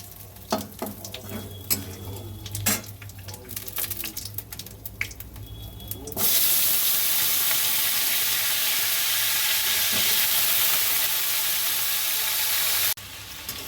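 Potatoes hit hot oil with toasted cumin seeds for a potato, paneer and soybean curry, bursting into a loud, steady sizzle and hiss after a few scattered clinks and stirs, the frying roaring on close and unbroken before cutting back near the end.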